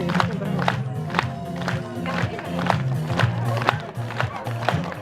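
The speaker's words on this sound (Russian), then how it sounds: "В такт музыки все вместе учим Линду хлопать." Dolphin show crowd at the Moscow Zoo clapping in time to music, a steady rhythmic beat of many hands over a loud music track.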